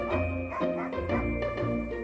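A dog barks in a comic sketch, with several short, loud woofs in an uneven rhythm over a tonal background.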